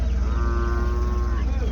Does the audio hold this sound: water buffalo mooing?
yes